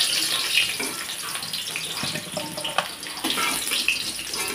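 Fried potatoes sizzle in hot oil while being lifted out. The crackle and hiss are steady and fairly loud throughout, with small pops and clatters of a utensil against the pan.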